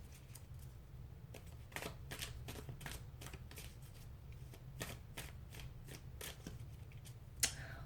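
Tarot cards being shuffled and drawn, a run of crisp riffling flicks and slaps in an irregular rhythm, close and fairly loud over a low steady hum, with a sharp snap near the end.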